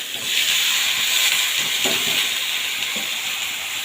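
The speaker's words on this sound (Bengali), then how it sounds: "এরপর দিয়ে দেবো লাউটা" Chopped bottle gourd hits hot oil with green chillies in a pan, giving a continuous hissing sizzle with a few soft stirring knocks and scrapes partway through.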